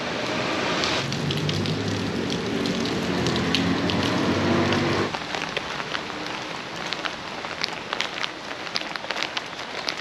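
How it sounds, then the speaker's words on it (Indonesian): Steady rain falls outdoors in Indonesia, a dense continuous hiss of drops striking surfaces, heavier through the first half and then thinning to a lighter patter with scattered louder drips near by. "Ini di luar masih teletek, jadi hujannya itu awet sekali."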